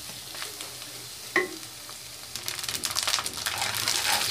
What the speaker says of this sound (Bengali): আরও কিছুক্ষণ ভেজে নেব